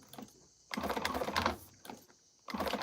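Sewing machine top stitching a quilted flap, quiet bursts of rapid mechanical stitching starting and stopping, with short pauses between runs.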